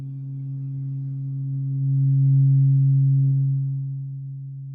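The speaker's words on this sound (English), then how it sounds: "that is a ohm tuning fork." A low tuning fork tuned to 136.10 Hz, the Om pitch, rings as one steady, pure hum during a sound bath healing session. It swells slightly near the middle and then fades softly, quiet and alone with no talking.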